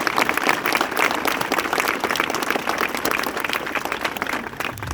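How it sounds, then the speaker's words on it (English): Sustained audience applause for veterans at an Honor Flight send-off event, a dense, loud wash of many hands clapping steadily for the full length with light crowd murmur underneath. "so give them a big round of applause"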